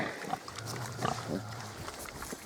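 Fattening pigs from a black sow grunt and snuffle softly nearby in a short, low burst of farmyard noise.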